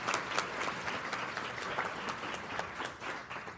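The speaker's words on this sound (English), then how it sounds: "We should give them applause anyway because they're amazing." Audience applause at a jigsaw puzzle competition closing ceremony, a continuous patter of many hands clapping at moderate distance, steady and fairly soft throughout the few seconds with no talk.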